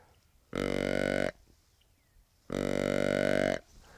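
Two short, buzzy deer grunts imitating a younger buck of about 2.5 to 3.5 years, about a second each, with a brief silence between them; close and fairly loud.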